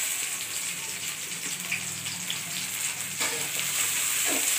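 Sliced onions, green chillies and curry leaves fry in hot oil for an Ananthapuram-style fish curry, with a continuous bright sizzle and crackle and a few soft stirring scrapes, with no talk.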